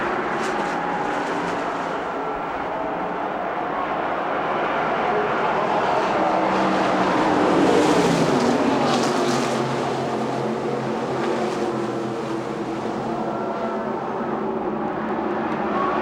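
A pack of NASCAR stock cars roaring away at the start of the 1995 Brickyard 400 at Indianapolis Motor Speedway, a loud, continuous engine drone that swells to a peak and then holds, with broad crowd-like noise and no clear voices.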